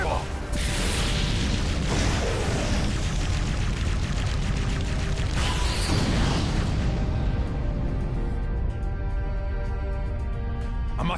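A fire style fireball jutsu erupts in a Naruto x Boruto Storm Connections fight on PS5, a loud, dense blast with booming bursts near the start and again around the middle that fades to a rumbling tail, with voices shouting over it.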